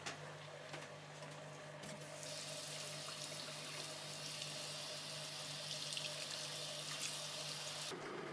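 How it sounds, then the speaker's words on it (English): Cold tap water runs in a steady hiss as an etched homemade circuit board for a homebrew computer is rinsed off, continuous and close with a faint hum beneath and nobody speaking. "When the etching is done, the board is rinsed off in some cold water."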